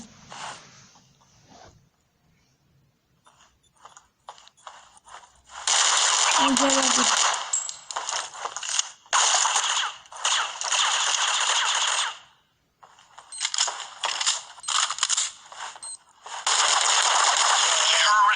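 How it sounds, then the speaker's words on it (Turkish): Automatic weapon fire from the mobile shooter game Critical Ops, with loud sustained bursts and rapid rattling volleys that start and stop repeatedly after quieter scattered shots, and a brief voice early on. "Abi her silah sesinde ben korkuyorum ha."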